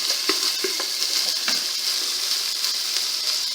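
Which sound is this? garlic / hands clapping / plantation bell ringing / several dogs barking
garlic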